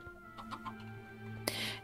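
Chickens in the video game Minecraft give a few short, soft clucks close by, followed by a brighter burst at the end, with little else around them.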